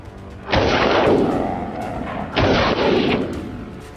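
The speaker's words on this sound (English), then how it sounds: "I fired rapidly, bullets chasing their frantic path." Two loud, close gunshots fired at wild boars on a farm, each a sharp boom with a long rumbling tail, about two seconds apart.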